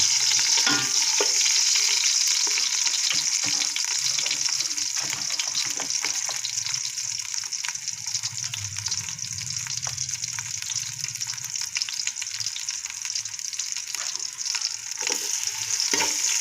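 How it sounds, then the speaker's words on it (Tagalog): Garlic sautéing in oil in a pan for a native chicken dish, a loud continuous sizzle and spatter heard up close, with occasional stirring scrapes and no voices. "may lumabas na mantika. Dito na tayo maggigisa."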